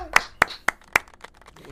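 Four sharp hand claps, evenly spaced and close, followed by fainter scattered tapping and a murmur of background noise.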